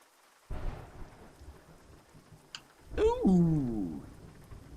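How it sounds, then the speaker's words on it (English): In American Truck Simulator, a heavy thunderclap breaks out of a storm with rumbling low thunder and steady rain, and a voice exclaims over the rumble. "Let's see if we can hear any thunder."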